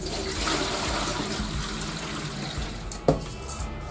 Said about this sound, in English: And then we're going to drain the rice.